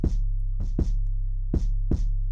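Kick drum hits pump a sustained 808 bass in FL Studio, the bass ducking sharply under each of five kicks through sidechain compression, loud and alone with no talking.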